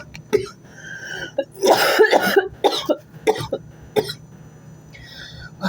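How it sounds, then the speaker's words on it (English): A person coughs in several sharp, loud bursts with some throat clearing, close to the listener, with no talking. "Tell me why I just started coughing like that."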